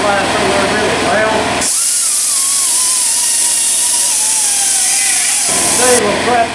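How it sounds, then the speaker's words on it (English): Small power sander fitted with a prep pad stripping paint from a Ford Ranger body before fiberglassing, a loud high hissing whir that starts abruptly and runs steadily for several seconds, with talk before and after. "We've got a little sander here with a little prep pad."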